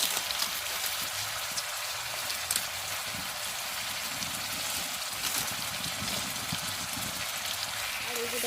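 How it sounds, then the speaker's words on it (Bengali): Steady rain falls in a dense, even hiss that holds at the same moderate level throughout, with no distinct rumble of thunder standing out. "সব জায়গাতেই এরকম আকাশ ডাকছে, বৃষ্টি হচ্ছে"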